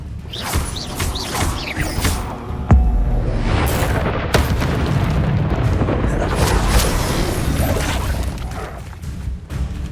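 Confringo fire spell blasts in the Hogwarts Legacy video game: a dense, loud run of booming, crashing explosions and magical impacts, one sharp hit near the start, then sustained rumbling mixed with muffled voices.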